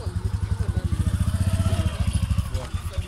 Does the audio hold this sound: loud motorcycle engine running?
yes